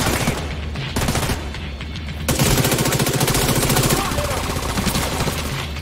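Automatic machine gun fire in the shooter game The Division 2 rattles in rapid, loud bursts, first in short volleys and then as a sustained stream of shots over other gameplay sounds.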